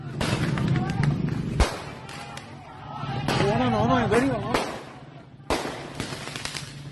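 Firecrackers thrown during a street clash between two youth groups on Jalan Raya Sumarno, Cakung, go off as several sharp, scattered cracks over shouting voices and crowd noise.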